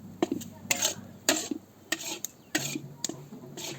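Halwa made with desi ghee is stirred in a pot at a temple courtyard in a mountain village, with repeated scraping and clinking strokes in a steady rhythm under a low background hum.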